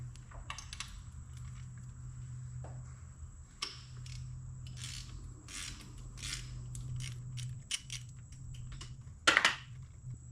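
A 5/8 socket and ratchet work a spark plug loose on an R33 GT-R engine, giving scattered faint clicks and mechanical creaks with brief pauses, then a sharper metallic clatter near the end, heard up close without speech.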